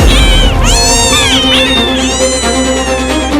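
A cat meows loudly and insistently several times in a row, close to the microphone, with long drawn-out cries.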